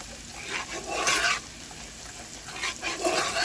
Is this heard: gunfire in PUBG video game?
no